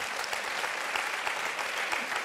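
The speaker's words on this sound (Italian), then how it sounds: "voi, voi applaudite" A TV studio audience applauding steadily, a dense, even wash of clapping from many hands that carries on alone for the whole stretch.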